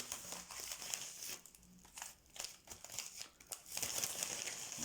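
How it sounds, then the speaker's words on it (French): A paper envelope is torn and opened by hand, giving close, crisp crinkling and ripping bursts in several uneven spurts over a few seconds, with no talking. "Nous allons ouvrir l'enveloppe."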